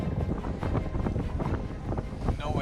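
Strong gusty wind at sea buffets the microphone in a constant loud roar, with a low rumble beneath and no other clear sounds.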